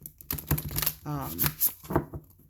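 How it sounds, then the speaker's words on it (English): Oracle cards riffle-shuffled casino style, giving quick papery flutters and snaps in several short bursts, close up, with some speech-like sound in the background. "I'm able to shuffle them casino style fairly well"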